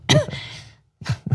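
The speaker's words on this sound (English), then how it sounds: "weird timing for a cough" A single short cough-like burst followed by a breathy exhale, then after a brief silence two more quick throaty bursts, close and fairly loud.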